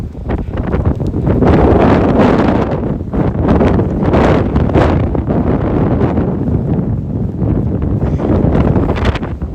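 Strong gusts batter the camera microphone and gimbal on a hillside climb near Bozeman, Montana, producing loud, surging buffets that rise and fall in repeated waves, close and dominating, with no voices.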